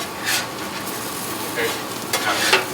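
Hashbrown patties fry on a Griddle Master Top griddle, a constant close sizzle with a few brief spatula scrapes and shuffles across the flat surface.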